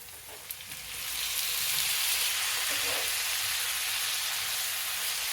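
Chopped tomatoes going into a pan of softened onions, setting off a loud, steady sizzle and frying hiss that swells after the first second and holds to the end, with no talking.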